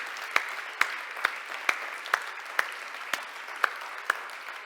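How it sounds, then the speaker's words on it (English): An audience claps during a centenary celebration talk, though here it sounds sparse: a few distinct sharp claps spaced roughly every half second over a faint room hiss, with no talking. "that's worth an applause, I think."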